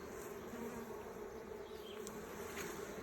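Carniolan honeybees buzz in a steady, dense drone while a large multi-box hive is opened for inspection, a continuous close swarm hum with no one speaking.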